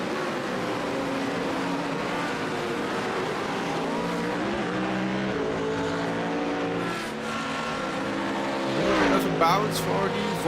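Race cars, including a Porsche, thunder past during the opening laps of the 24 Hours of Zolder endurance race, engines droning steadily with shifting pitch, a commentator talking continuously over the track noise.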